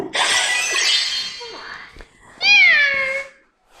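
A burst of glassy breaking noise, then a synthetic electronic meow from a Makeblock mTiny toy robot that rises and falls, clear and close.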